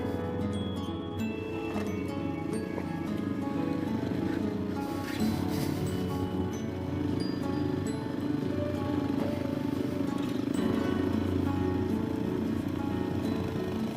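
Street motorcycle riding in the Dominican Republic, a steady continuous engine drone with road and wind noise, close and unbroken throughout.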